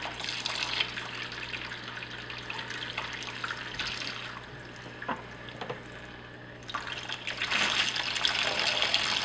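A hose siphoning water and debris from a small Fluval Spec aquarium, a continuous close trickling gurgle that dips briefly midway and then surges louder toward the end.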